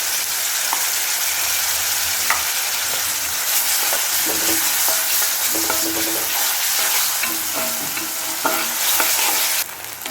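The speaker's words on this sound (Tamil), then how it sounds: "வெங்காயம் நல்லா வதங்கிச்சு, இஞ்சியை நல்லா பேஸ்ட்டும் நல்லா வதக்கியாச்சு" Onions and ginger-garlic paste sautéing in a pan for mutton sukka, a steady loud sizzle and frying hiss with intermittent stirring scrapes and clinks throughout, no voices.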